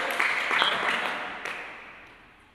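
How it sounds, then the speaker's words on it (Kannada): Audience applause in a school classroom quiz setting for a tenth-grade social science quiz, greeting a team's score; a short burst of clapping that fades steadily over a couple of seconds. "ಒಂದು ಚಪ್ಪಾಳೆ ಕೊಡಿ"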